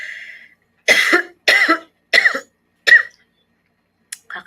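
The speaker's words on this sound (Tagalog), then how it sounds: "Wait lang ubo ko." A woman coughs four times in quick succession, loud and close in a quiet room, followed by a short throat-clearing.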